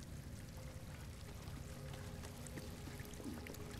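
Steady flowing water in the video game Star Wars Jedi Fallen Order, a continuous broadband rush with faint droplet textures, constant and fairly loud with no voices.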